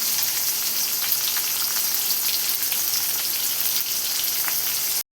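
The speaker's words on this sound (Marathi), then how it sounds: "कढीपत्ता असा उडते बघा तेलामध्ये" Curry leaves, chillies and tomato fry in hot oil, a steady, loud sizzle with dense spattering crackles that runs unbroken until it cuts off at the end.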